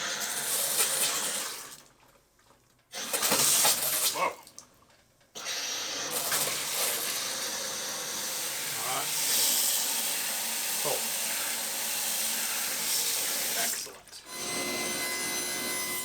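Water runs from a tap into a newly installed workshop sink with fresh P-trap and supply lines, a close hissing splash that cuts off and restarts in short bursts before flowing steadily; a voice speaks briefly over it.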